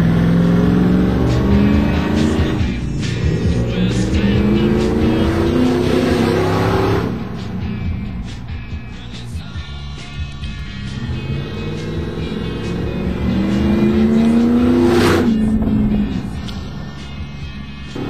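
A car fitted with an exhaust cutout drives past loudly, its engine revving up in two long surges that rise and fall, with a rough, open exhaust note.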